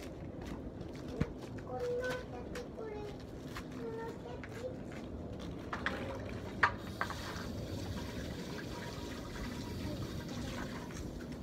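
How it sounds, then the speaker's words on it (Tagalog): Water running from an opened tap in a public washroom, a steady splashing trickle under a speaking voice, with scattered footsteps and clatters around it. "Bukasan natin dito sa gripo"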